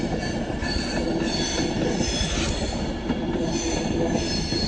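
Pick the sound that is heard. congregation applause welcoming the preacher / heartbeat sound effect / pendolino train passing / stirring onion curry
pendolino train passing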